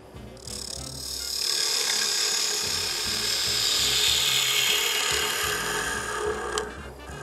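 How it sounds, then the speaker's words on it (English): A 3/8 inch spindle gouge cuts across the end of a spinning wooden blank on a lathe while turning a lidded box, giving a steady, close, rasping shaving noise that holds for several seconds with no talk. "First thing we're going to do is clean up the end of it with a 3/8 inch spindle gouge"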